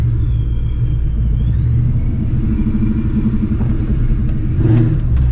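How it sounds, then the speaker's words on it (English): Steady low engine rumble from a supercharged Ford Mustang GT 2V, with a continuous mechanical drone and faint higher whine from the intake piping, loud and close, no voices. "That's literally like the intake piping that's making that noise."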